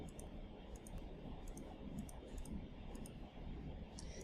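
Mouse clicks during photo retouching work, small sharp clicks in irregular pairs and clusters, faint and high over a steady low background hum.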